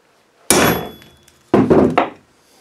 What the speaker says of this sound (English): knock the absolute snot out of it with a lump hammer